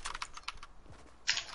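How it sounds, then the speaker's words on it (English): A PC keyboard clicks in quick, soft bursts of keystrokes close to the microphone, fairly quiet, with a brief louder clatter near the end and no speech. "Now can you hear my PC clicking?"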